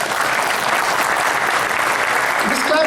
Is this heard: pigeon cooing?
no